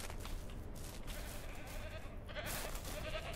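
Goats bleating on a farm in the video game Ranch Simulator, a steady dense blend of animal calls with no clear separate bleats, sounding close and continuous throughout.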